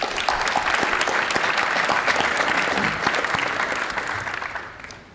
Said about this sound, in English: How about we give your parents a big round of applause?